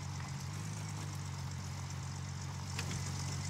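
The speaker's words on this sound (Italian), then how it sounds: "Spegni sto motore." Vehicle engine idling in the Gold Rush video game, a low steady droning hum with a faint higher whine, constant and fairly quiet, with no talk over it.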